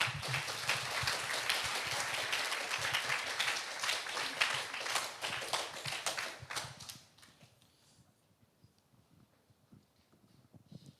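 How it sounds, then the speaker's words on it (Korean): Church youth-group congregation applauds as new members come forward to be welcomed, a dense, steady burst of clapping filling the room for about seven seconds before fading to quiet room tone. "큰 박수로 환영해 주세요"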